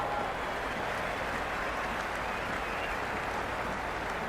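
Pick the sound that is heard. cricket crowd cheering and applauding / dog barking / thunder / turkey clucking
cricket crowd cheering and applauding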